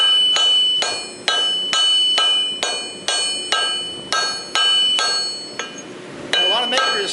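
Blows of a hammer forge a welded wire blade, about a dozen sharp ringing metallic strikes at a steady rhythm, each decaying before the next, close and loud.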